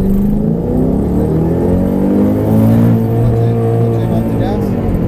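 A Chevrolet Camaro ZL1 launches hard in Vegas as the clutch is dumped, its engine roaring loud and close and climbing steadily in pitch, with a voice talking underneath.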